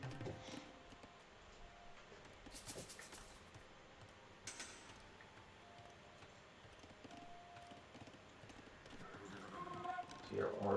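Scout cavalry horses trotting in Age of Empires, with rapid clip-clop hoof beats running steadily under game ambience, broken by a few sharp clicks and brief bursts; a voice talks over much of it.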